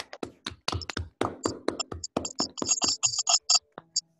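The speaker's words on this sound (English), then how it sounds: "Can we all unmute and give Peter some applause?" Seminar participants on an online call unmute and clap, producing sparse, uneven individual claps close to the microphone that overlap and thin out toward the end.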